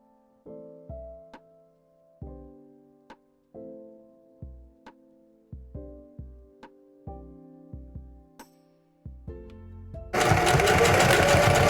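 A sewing machine stitches a store-bought dress in short, close humming bursts, starting and stopping repeatedly with brief gaps between them. A loud burst of broadband noise takes over at the end.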